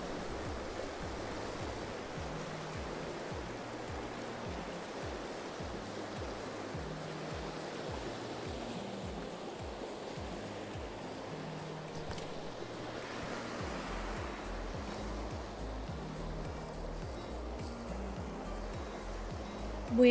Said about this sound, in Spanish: Me encanta escuchar el ruido del agua.